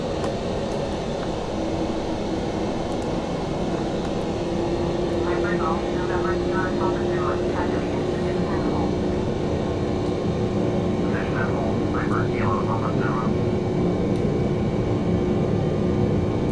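Airliner jet engines roar loudly and steadily as the throttle is advanced for takeoff from Birmingham in Flight Simulator X, a broad, continuous rumble that holds without pause throughout.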